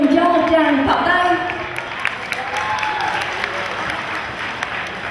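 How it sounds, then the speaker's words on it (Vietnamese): Applause from the audience at the fifth gathering of the Hue hometown association in Binh Duong, a broad wash of clapping that rises after a voice at the start and carries on steadily to the end. "Xin tất cả quý vị hãy cùng cho một tràng pháo tay."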